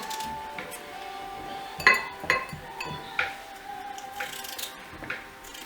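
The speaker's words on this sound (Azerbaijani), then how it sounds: "İndi kartoflarımızı bax belə doğrayırıq." A knife chops fried potatoes for a sac dish, making irregular sharp clicks and taps against a hard surface, some louder than others, close by and with no voices.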